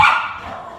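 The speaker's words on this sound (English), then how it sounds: "barking dog, it's very excited." An excited dog barks once, loud and close, a sharp yelp that tails off quickly inside a home kitchen where yeast bread dough is being made.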